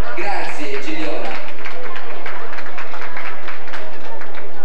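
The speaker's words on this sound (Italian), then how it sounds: "Quindi merita veramente un grosso applauso." An audience at an evening poetry award ceremony in a hall gives a sustained round of applause, dense steady clapping from many hands filling the room, fairly loud and continuous.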